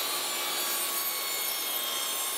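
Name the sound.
bandsaw cutting wood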